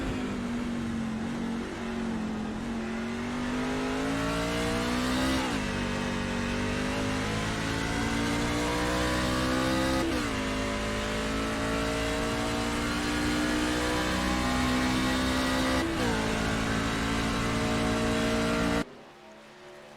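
Race car engines roaring in an iRacing IROC Series race at the Daytona Road Course, sustained loud high-pitched revving that rises and drops with several gear shifts and throttle changes, cutting off abruptly near the end.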